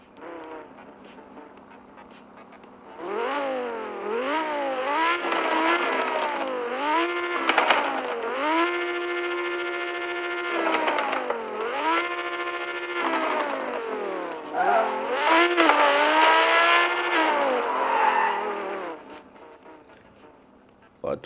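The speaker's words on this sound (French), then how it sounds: "la Lamborghini Aventador a un V10 atmosphérique" A Lamborghini Aventador's naturally aspirated V10 roars in a racing video game, revving hard through repeated rising sweeps and gear shifts, loud and close, with brief lulls between pulls.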